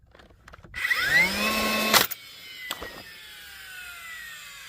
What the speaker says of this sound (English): I'm using 3 1/4 inch nails with a ringed shank, and it's going into pressure treated wood.